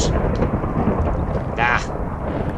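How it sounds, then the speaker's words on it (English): Rolling thunder of a storm in Minecraft, a low continuous rumble with a brief brighter crack partway through, heard from inside an abandoned mine shaft. "I'm in an abandoned mine shaft with a thunderstorm outside"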